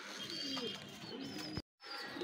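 Young white golden pigeons coo close at hand, soft throaty calls over a steady background, broken by a brief silent gap near the end.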